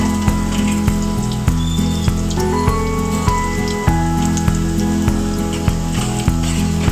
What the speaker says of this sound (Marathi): कांदा फोडणीला ठेवला.